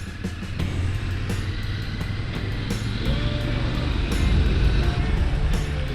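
A 2022 Triumph Scrambler 1200 XC motorcycle cruising in top gear at about 45 mph, giving a steady, loud engine drone with rushing wind noise throughout and no break.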